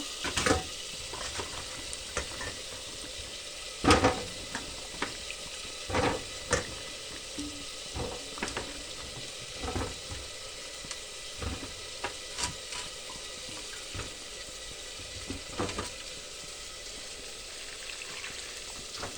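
Bottle gourd pieces frying in a pan, with a steady broadband sizzle punctuated by repeated sharp clinks and scrapes of stirring at irregular intervals, fairly close and moderately loud, no talk.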